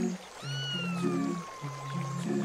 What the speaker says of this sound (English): Look, Laith, there's a kitten stuck on the rock in the river.